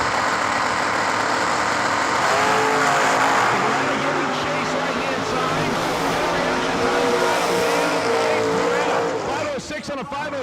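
Drag racing cars, a Beretta and a Nova, roar loudly and continuously at close range, engines revving and shifting pitch as they launch, with a brief dip near the end.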